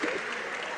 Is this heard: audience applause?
yes